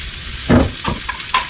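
A spoon stirring hot sauce into food in a pan, a few short close scrapes and soft wet sloshes, each lasting a split second, with no voice.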